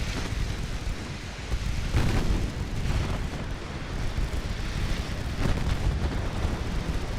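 Main battery guns of early dreadnought warships firing in a naval battle game, a dense, rumbling barrage of heavy booms rolling together into a continuous roar with no talk.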